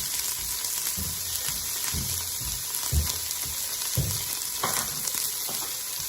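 Chopped yellow onion and garlic sizzle in a hot pan, a steady close frying hiss broken by periodic soft stirring scrapes and thuds.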